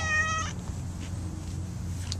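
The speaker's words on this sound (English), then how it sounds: "Friendly Kitty" A friendly cat on a street corner gives a short meow close by, then a low steady hum of traffic or street noise continues with a faint sound near the end.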